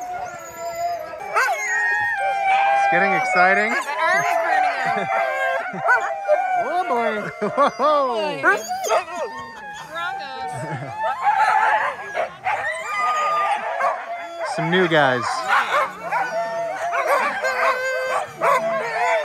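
Sled dogs at a dogsledding yard in Haliburton, Canada, barking, yipping and howling together loudly and excitedly in a dense, overlapping chorus, with people talking briefly over the din.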